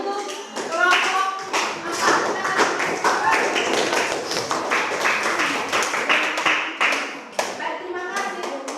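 A classroom of students claps for a presenting group, a dense burst of overlapping hand claps lasting several seconds, close and loud, with a voice speaking briefly over it.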